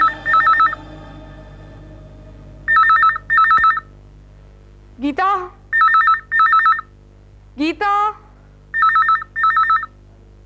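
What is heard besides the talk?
telephone bell ringing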